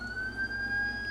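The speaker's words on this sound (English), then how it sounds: "That's the sound of the police." A distant police siren wails steadily, a thin rising tone heard far off and faintly, with no voices.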